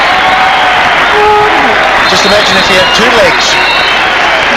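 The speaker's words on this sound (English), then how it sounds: "The crowd love that." A crowd at a 1994 Hockey World Cup semifinal between Pakistan and Germany cheers and applauds as a broad, roaring wash, with a commentator talking over the top throughout.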